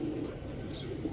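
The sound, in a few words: pigeons cooing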